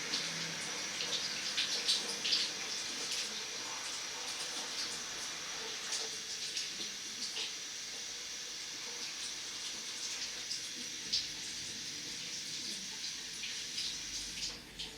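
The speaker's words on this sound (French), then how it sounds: "le petit truc des contacts, on le passe sous l'eau" A remote control's contact pad rinsed under a running tap, producing a steady hiss of flowing water with small splashing variations throughout, fairly quiet and uninterrupted.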